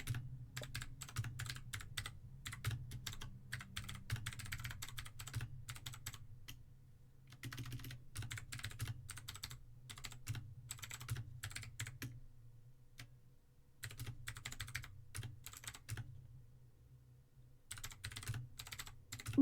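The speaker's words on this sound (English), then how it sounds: "Intense keyboard noises." Quiet, close computer keyboard typing in bursts of rapid clicks separated by short pauses, over a low steady hum.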